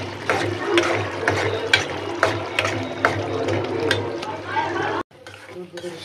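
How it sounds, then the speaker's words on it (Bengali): Shrimp stir-fried with green chillies in a pan, with a steady close sizzle broken by repeated scraping strokes of a spatula at an irregular rhythm and a brief cut near the end. "কাঁচা মরিচের চিংড়ি মাছ ভুনা কত সুন্দর করে ভুনা করছি"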